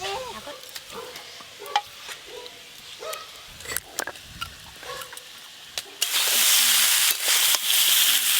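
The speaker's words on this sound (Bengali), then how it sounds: "আলু আর এঁচোড় একটু ভালো করে ভেজে নিয়েছি" Potato and jackfruit fry in a pan, a constant sizzle under repeated scraping and clattering stir strokes, and the hiss swells loud and bright near the end.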